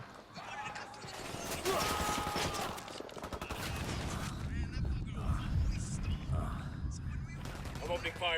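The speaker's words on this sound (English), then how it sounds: "I'm opening fire on these shitheads." Gunfire in the tactical shooter Ghost Recon Wildlands: rapid bursts and a dense fusillade of shots at moderate distance, layered over mechanical clatter and other game noise, with a voice speaking partway through.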